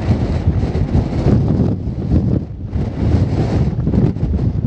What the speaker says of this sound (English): That's an icy wind.